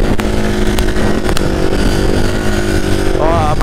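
A motorcycle engine drones loudly and steadily up close during a wheelie, with a rising whine near the end while someone talks over it.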